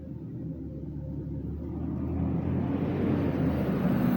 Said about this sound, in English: I hear a truck coming.